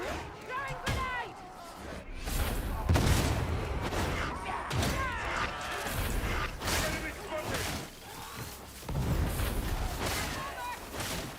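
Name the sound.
grenade explosion in the video game Warhammer 40,000: Darktide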